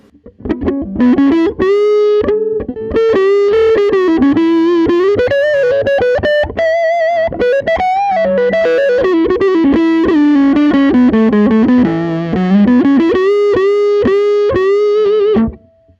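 Teye Coyote electric guitar played through passive circuitry with tone knob down and volume up, giving a thick fuzz-like distorted tone; a continuous sustained melodic line of single notes and bends, loud and close, with no talking.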